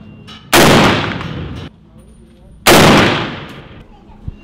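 Two long bursts of rapid automatic fire from a SCAR combat assault rifle, loud and close, each lasting about a second and separated by a short pause.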